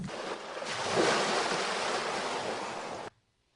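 Ocean waves wash up on an island shore in one sustained, loud, broadband surge that swells and holds for about three seconds, then cuts off abruptly into near silence.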